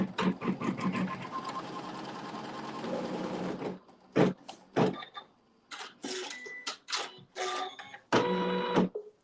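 A sewing machine stitches a tack to hold fabric in place for a log cabin quilt block: one long steady mechanical run of stitching, then several short stop-start bursts, close and fairly loud.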